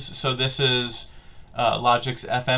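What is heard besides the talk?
None of the usual background noises is heard.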